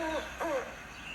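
An owl hoot from an AR educational card app for children, two short hooting calls played back close and clear over a steady background hiss.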